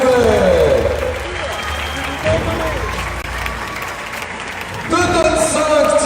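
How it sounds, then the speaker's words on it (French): A circus audience at Cirque Medrano applauds and cheers in a steady, dense wash, with a loud voice and music-like tones riding over the crowd throughout. "Ça mérite des applaudissements. Plus fort que ça, s'il vous plaît."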